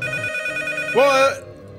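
Telephone ringing in the horror video game Unreal PT, one short bright electronic ring bursting out loud over a low background hum, then cutting off.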